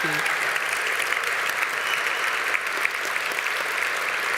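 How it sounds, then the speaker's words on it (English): Audience applause at a 2018 military awards ceremony honouring armed forces nominees: a dense, steady wash of clapping from a large crowd that fills the whole stretch at an even level. "So please join me in giving all of our nominees, our fantastic nominees, a huge round of applause."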